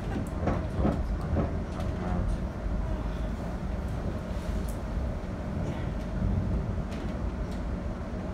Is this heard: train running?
yes